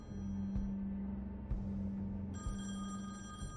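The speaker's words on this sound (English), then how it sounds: "I would, but the phone's ringing." A telephone rings in the video game The Wolf Among Us with a steady electronic ring over a low rumbling background. Faint thumps and clicks punctuate the ring.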